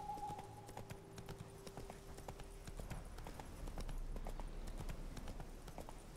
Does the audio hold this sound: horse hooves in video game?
yes